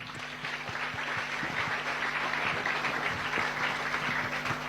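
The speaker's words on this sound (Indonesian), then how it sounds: "Tepuk tangan." Applause from a crowd at an Indonesian Islamic boarding school gathering, steady and fairly faint, with a low electrical hum running underneath.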